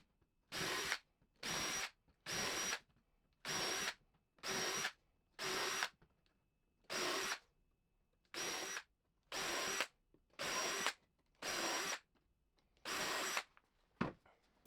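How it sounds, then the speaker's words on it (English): A power drill fitted with a countersink bit pre-drills holes in 2x4 wooden planks for a bench, heard as about eleven short, loud whirring bursts of equal length separated by brief silences. "Pre-drill with a countersink drill bit and then set it aside."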